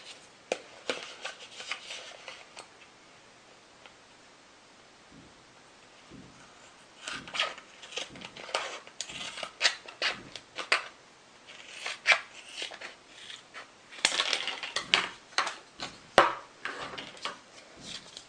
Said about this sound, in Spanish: Y una vez más cortamos con las tijeras.